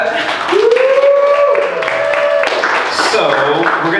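An audience at a Q&A event claps steadily for a few seconds, a dense, even patter heard alongside other sounds with no one speaking clearly over it.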